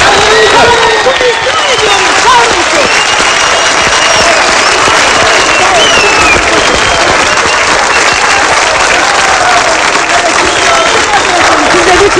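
A large crowd at a protest against Israel applauds continuously, a dense roar of clapping with scattered cheers and voices mixed in throughout.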